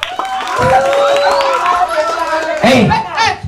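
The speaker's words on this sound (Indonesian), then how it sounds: "Berikan tepuk tangan untuk paslon 2." An audience claps and cheers for candidate pair 2 at a staged regional election debate during a Balinese dance-drama, a steady crowd wash with voices calling out over it and a louder shout near the end.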